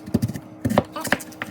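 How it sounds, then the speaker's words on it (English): Sweet potatoes are cut into one-inch cubes on a board with a knife, giving a few close, sharp chops in two quick clusters. "When you cut your sweet potatoes, you're gonna wanna make sure you cut them into 1-inch cubes"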